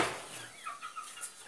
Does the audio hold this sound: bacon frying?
no